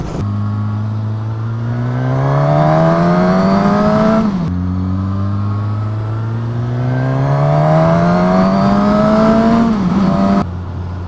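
A 2019 Suzuki Katana motorcycle engine pulls hard while riding, its loud, smooth tone climbing steadily through two long acceleration runs, with a brief gear-change dip between them and no voices.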